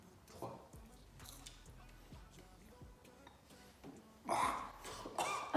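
Crunchy insects being chewed up close, with a few sharp crackling bites and mouth noises, louder bursts near the end, under low background noise and occasional voices.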